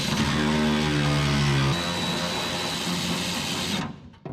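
A slim small power tool works a hard-to-reach bolt on a 1967 Scout body, whirring steadily and loudly up close, dropping in pitch partway through and cutting off just before the end.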